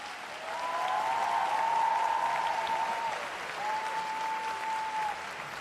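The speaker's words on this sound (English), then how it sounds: "Merci de les applaudir à nouveau." A figure skating arena crowd at the Grand Prix de France applauds a pairs team, broad sustained clapping from a large audience, with two drawn-out tonal whistles or horn notes riding over it.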